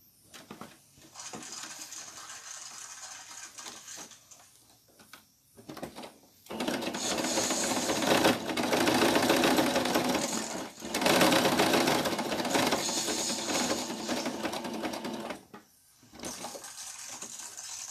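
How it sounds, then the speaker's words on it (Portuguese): Bursts of sewing machine stitching run a seam around the edge of a balloon craft project, with short stops and starts between loud, close runs of rapid mechanical whirring. "eu vou bater uma costura aqui em volta"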